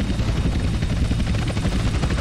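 Helicopter in GTA San Andreas flies close by, its rotor chopping in a loud, steady rhythmic thump with an engine whine, continuous and alone.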